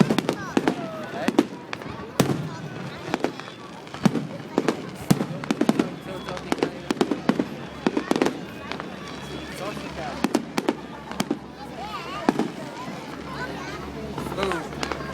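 Fireworks on Bonfire Night crack and pop in rapid, irregular bursts, loud and nearby, over a continuous background rumble, while people talk and murmur throughout.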